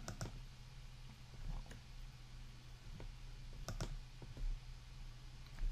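A computer mouse clicks sparsely while someone navigates Power BI dataflow settings, with a few sharp, close clicks spread irregularly over a steady low electrical hum and no voices.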